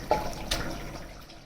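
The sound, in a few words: pouring spinach water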